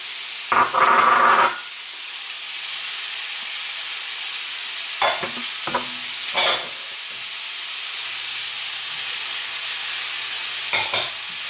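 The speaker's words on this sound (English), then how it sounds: "we're going to go ahead and add our onion, the white onion, and then all 3 colors of our peppers" White onion and three colors of bell pepper sauté in a pan, giving a steady frying hiss with a few louder bursts of stirring and sizzling scattered through the clip.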